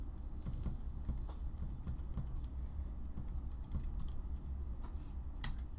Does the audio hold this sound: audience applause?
no